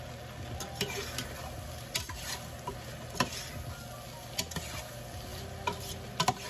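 Shrimp, vegetables and peppers are stirred in a frying pan: a soft steady sizzle with repeated sharp taps and scrapes of a utensil against the pan, close and fairly quiet, no talk.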